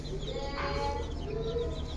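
Chickens and young chicks on a small poultry farm, faint clucking and chirping calls over a steady background hum, no clear talk.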